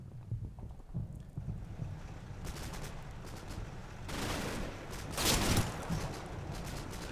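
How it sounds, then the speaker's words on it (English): Gunfire strikes a half-track in the Combat Mission: Battle for Normandy war game, with bursts of rattling shots and impacts building in intensity, the loudest volleys coming near the end. "Heavy fire incoming."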